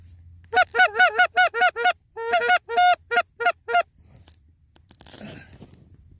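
A flock of geese honks overhead in quick bursts, two rapid volleys of loud calls, then a faint rustle as they pass over decoys.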